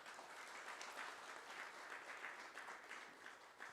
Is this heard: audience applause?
yes